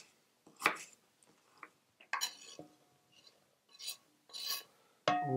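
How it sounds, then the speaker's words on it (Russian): A knife cuts pumpkin into cubes on a board, a few sparse, sharp chops with irregular pauses between them, close and fairly quiet, with faint clinks of utensils and no talking. "Так, теперь мы возьмем тыковки."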